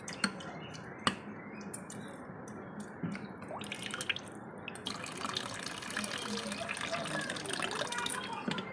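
Water runs and drips as lentils are rinsed in a home kitchen, a steady splashing wash that grows fuller and denser in the second half, with a few sharp drip or clink accents early on.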